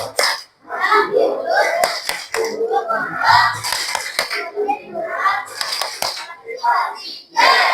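A primary school class claps a rhythmic pattern while the children chant together, with sharp, evenly spaced claps punctuating their voices and a short pause partway through.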